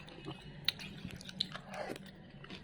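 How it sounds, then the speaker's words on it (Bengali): Pomegranate seeds, raisins and nuts being chewed up close, soft moist crunching with a couple of sharper bites, quiet and intimate with no talking. "মানে আনার বিচিটা কামড় পরে কিশমিশটা কামড় পরে বাদামটা কামড় পড়তেছে"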